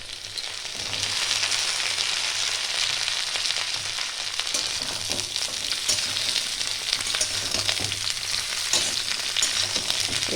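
Chopped bottle gourd and its leafy stems frying with potatoes in a pan, a continuous close sizzle with occasional stirring scrapes, steady and fairly loud, no talk.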